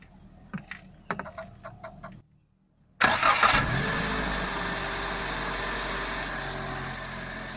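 A used car's engine cranks with a few starter whirs, falls silent, then catches with a loud burst and revs before settling into a steady, even idle.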